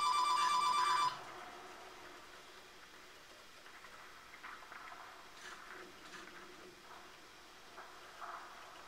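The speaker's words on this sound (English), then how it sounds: "Someone get the phone!" An old-style telephone bell in a Modern Warfare 2 mod game rings loudly and briefly at the start, then cuts off. A quieter rumbling game background with faint scattered noises follows, and no one speaks.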